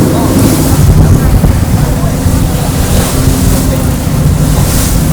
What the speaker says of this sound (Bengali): ভালোই ঢেউ হচ্ছে